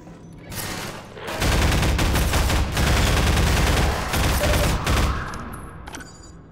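Heavy sustained gunfire from Half-Life 2, loud and dense with rapid overlapping shots for several seconds, easing toward the end.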